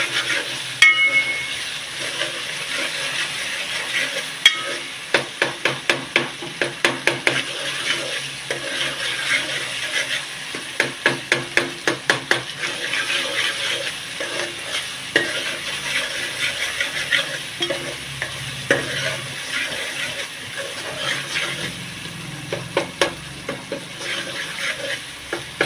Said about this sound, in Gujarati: મસાલો પકાય છે